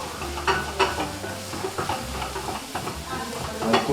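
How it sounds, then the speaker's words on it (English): Chopped tomatoes and coriander fry in a pan with a steady close sizzle, broken by repeated stirring scrapes and clinks at an uneven pace, with no voices. "I added my tomatoes, cut together with the coriander"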